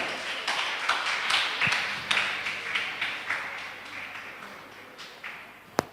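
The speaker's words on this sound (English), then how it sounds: "Give a big round of applause to our distinguished speaker." An audience claps for a distinguished speaker at a career guidance workshop, a moderate round of applause with uneven individual claps that gradually thins out, heard from within the hall.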